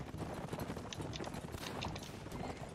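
Horses galloping in the video game Mount and Blade 1866, a steady, dense rumble of hoofbeats under a noisy battle wash, faint overall.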